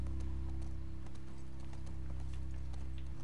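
Horse hooves clip-clopping at a walking pace in The Last of Us Part 2, a steady rhythm of soft thuds over a constant low game hum.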